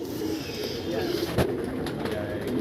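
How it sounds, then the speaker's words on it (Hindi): Pigeons coo softly at a rooftop pigeon-flying session, faint low cooing mixed with outdoor background noise and occasional voices. "ये 7 कबूतर चल रहे हैं अपने"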